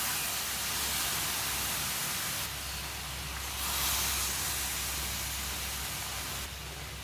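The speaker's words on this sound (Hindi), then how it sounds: "अब 2 प्याली दूध डालेंगे" Milk is poured into a pan of hot, freshly roasted semolina while making gulab jamun, giving a loud, continuous hiss and sizzle that swells and eases in waves for about seven seconds.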